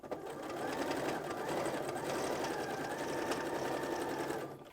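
A sewing machine stitching a fabric placemat runs in a steady, even mechanical whir with a faint rhythmic needle clatter, close and continuous for several seconds before easing off at the end.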